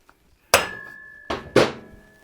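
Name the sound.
hammer tapping out a Harley axle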